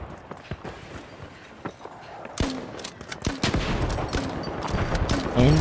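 Repeated weapon blasts and explosions from a grenade launcher in the online shooter The Finals, sharp thuds and bursts landing in quick irregular succession, fairly loud, with busy game noise between them and no talk.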